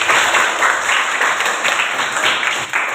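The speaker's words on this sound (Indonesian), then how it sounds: "tepuk tangan untuk Rasti" Students in a classroom clap for a classmate, a short, fairly close burst of uneven applause lasting a few seconds.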